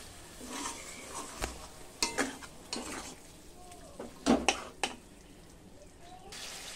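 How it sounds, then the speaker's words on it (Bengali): Mutton is stir-fried in a pan for a Bengali mutton curry, with scraping spoon strokes, metallic clinks against the pan and a low frying hiss beneath, close up and without talk. "এবার আমি ভালোভাবে মটনের সাথে এটাকে কষে নেব।"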